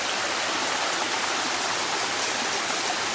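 Surface runoff pours out of a culvert on a property, giving a loud, continuous rushing of flowing water that stays steady throughout with no speech.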